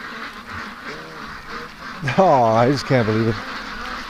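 A pet duck gives a run of loud, nasal quacks at close range while being coaxed toward its pen, and someone speaks just before the quacks.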